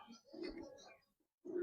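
Pigeon cooing, soft low coos in two short bursts with a brief gap between, faint and close.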